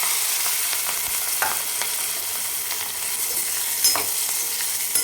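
Chopped green chillies hitting hot oil with crushed garlic and turmeric for a spicy lemon-chilli pickle, a steady bright sizzle with a few soft stirring clicks, close and continuous, no voices.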